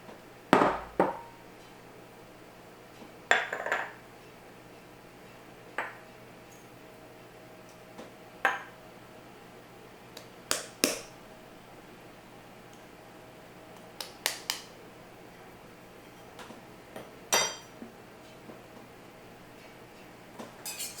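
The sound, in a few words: adding dry bagel ingredients to bowl and whisking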